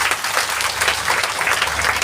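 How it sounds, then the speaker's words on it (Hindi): An audience at an indoor meeting breaks into sustained, dense applause, many hands clapping loudly and evenly throughout with no pauses. "एक ताली बजा लीजिए अपने लिए।"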